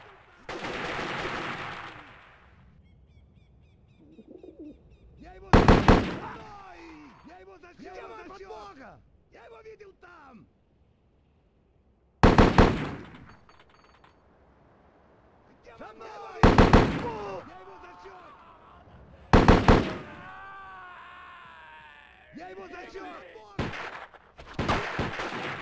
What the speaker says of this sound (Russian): Блин, откуда вот, где стреляют, я не вижу.